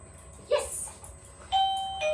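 A doorbell rings indoors, a two-tone chime heard twice in quick succession, clear and fairly loud over a quiet room, with no one talking.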